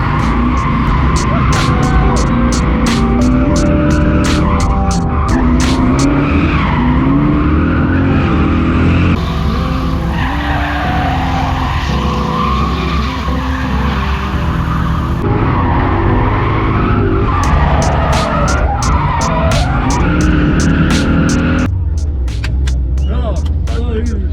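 A drift car at a rally and drift demo day skids with loud, sustained tire squeal over a roaring engine that rises and falls through repeated slides.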